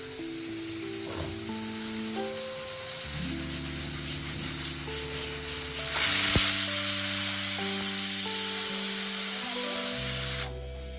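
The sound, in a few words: pressure cooker whistling and releasing steam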